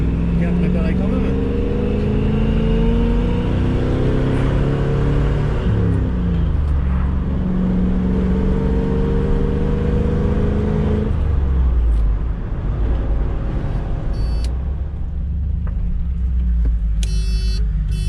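An old Range Rover engine revs high with rising and falling pitch sweeps, climbing through the rev range before settling back to a loud idle rumble, with voices chatting in the background.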